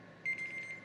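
An alarm clock goes off during a podcast recording, a steady, piercing electronic tone that rings out loud and close for under a second with no talk over it.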